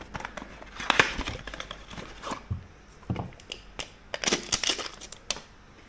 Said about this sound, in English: Let me just unwrap this oil filter.